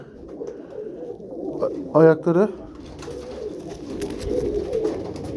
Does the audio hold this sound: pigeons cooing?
yes